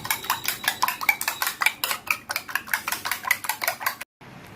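Rapid rhythmic clinking of a whisk or fork beating egg with pepper in a bowl, steady and close for about four seconds before stopping.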